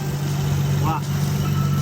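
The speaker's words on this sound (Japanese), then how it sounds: "でもエンジンの音は結構いいね。" A Nissan Skyline engine idles at close range, a steady low hum with a faint brief chirp partway through.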